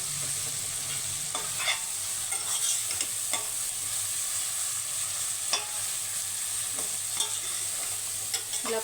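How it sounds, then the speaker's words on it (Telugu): A spoon stirs turmeric into a mutton curry in a hot pan, with a soft continuous sizzle and repeated scraping strokes against the metal, close up with no talk. "పసుపు వేసుకొని పచ్చివాసన పోయేంత వరకు కలుపుకుందాము."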